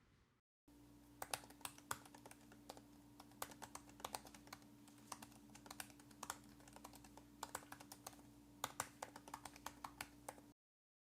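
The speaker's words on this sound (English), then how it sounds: "The keyboard itself is very low profile and reminds me of using a mechanical keyboard. Very loud." Rapid, crisp typing on the low-profile keyboard of a 2016 15-inch MacBook Pro with Touch Bar, close and clear, with steady clattering keystrokes over a faint hum.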